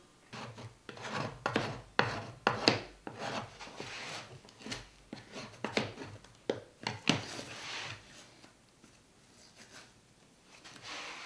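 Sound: card scraper scraping material off a wooden box

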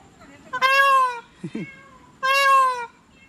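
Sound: peacock calling

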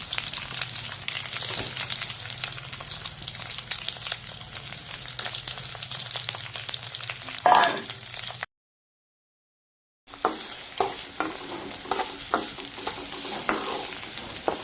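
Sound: onion sautéing in oil

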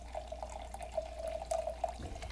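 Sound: liquid poured into a glass

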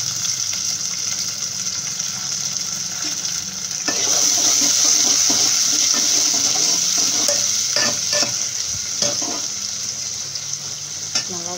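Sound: onions sautéing with curry leaves and green chillies in pan

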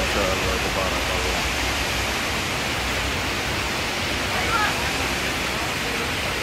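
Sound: spring water flowing in the mountains

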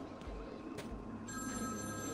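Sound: telephone ringing in Batman: Arkham City video game

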